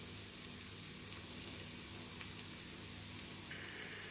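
Tomato paste hits a hot pan while cooking drumstick egg tomato curry, and a steady soft sizzle and frying hiss carries on throughout at low volume.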